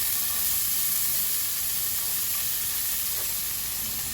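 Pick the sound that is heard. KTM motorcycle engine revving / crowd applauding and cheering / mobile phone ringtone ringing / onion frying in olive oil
onion frying in olive oil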